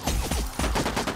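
Rapid bursts of gunfire from the video game Sausage Man ring out, several close, punchy shots in quick succession filling a brief moment, loud and without talk.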